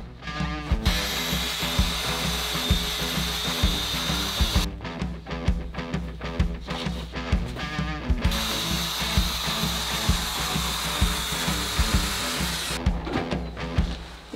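A power tool cuts down a foam mattress with fast, rattling mechanical chatter that runs steadily and breaks off briefly three times, with no talking.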